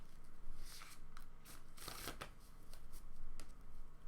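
Playing cards are shuffled repeatedly during a Magic: The Gathering match, giving crisp riffling bursts in quick rhythmic succession, close to the microphone and with no talking.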